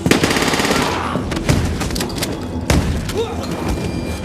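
Gunfire rattles through a movie fight scene, with rapid bursts, booming shots and heavy thuds crowding together. Loud sharp cracks land near the start and again in the middle.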